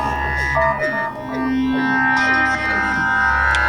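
Four layered instances of a Crumar Spirit synthesizer recreation set to sound-effect patches, swooping pitch-sweeping tones over a steady low drone, continuous and loud with no voices.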